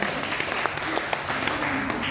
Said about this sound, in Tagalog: palakpakan muna natin sa tampay niya